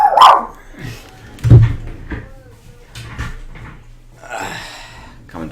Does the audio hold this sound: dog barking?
yes